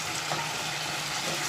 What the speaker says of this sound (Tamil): அதனால் தண்ணி ஊற்றிக்கிறேன் கொஞ்சமாக